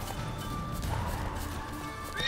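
A burning horse in The Witcher 3 video game neighs and whinnies loudly over a dense, continuous mix of game noise and hoof clatter, lasting the whole short stretch.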